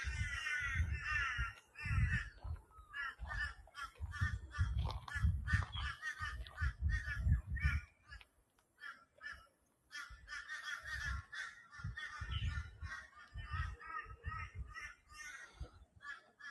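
Crows cawing in a forest, repeated harsh calls in irregular bursts that overlap one another, fairly loud and close with brief pauses between the bouts.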